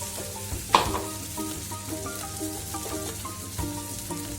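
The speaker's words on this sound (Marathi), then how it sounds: "आता आपण वाटून घेतलेला मसाला त्याच्यामध्ये टाकू. त्याला म्हणजे परतून घेऊ चांगलं व्यवस्थित." Ground masala stir-fried with cooked drumsticks in a pan makes a continuous moderate sizzle, broken by a sharp utensil knock early on and scattered stirring clinks.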